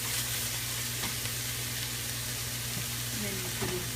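Eggplant chutney with garlic paste sizzles and fries in a pan, a steady close hiss with faint scraping stirs throughout.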